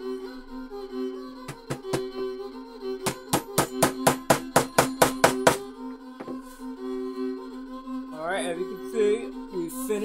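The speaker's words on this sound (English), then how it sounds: "we just gotta tack the front on." Hammer tacking the front panel onto a handmade fiddle lyre, with two quick strikes, then a steady run of about ten sharp, close blows; a low sustained hum runs underneath and a voice chatters briefly near the end.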